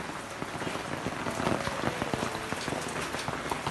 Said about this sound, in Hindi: इतनी बुरी तरीके से बारिश हुई है